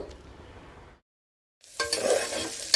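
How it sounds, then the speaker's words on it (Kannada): Broken wheat with turmeric is stirred in a pan for a pulao, with soft scraping and a light sizzle, then a brief silence before louder, closer stirring and clattering against the pan. "ಸ್ವಲ್ಪ ಅರಿಶಿನ ಹಾಕಿ ಮಿಕ್ಸ್ ಮಾಡ್ಕೊಳ್ಳಿ."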